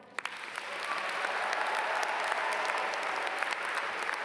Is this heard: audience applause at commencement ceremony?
yes